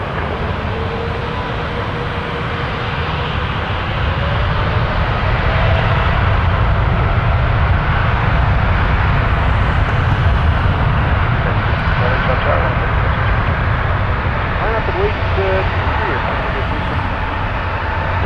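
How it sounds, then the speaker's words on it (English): A cargo jet rolls for takeoff on runway 23 at Toronto Pearson, a loud, steady roar of engines that holds and builds slightly over the whole stretch, heard from a distance with no break. "Clear for takeoff runway 23, cargo 42."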